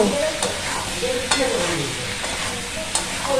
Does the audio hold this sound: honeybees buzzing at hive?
no